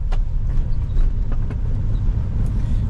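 A 1963 Buick Riviera cruising on the road, with a steady low engine and road rumble heard from inside the cabin. The ride noise is constant and fairly loud, and no one speaks.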